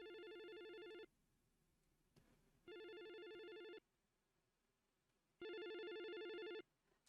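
In the horror video game Corpse Party -Cross Fear-, an electronic telephone-like ring repeats in three sustained bursts of about a second each, separated by quiet gaps, with no speech.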